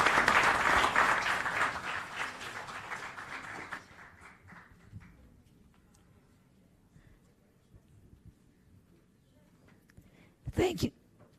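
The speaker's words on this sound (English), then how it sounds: "Please loud applause to our great panelists." Conference audience applauding panelists at Orion Summit 2023 in New York, a dense burst of clapping that fades over several seconds to near silence, followed by a brief stronger flurry of claps near the end.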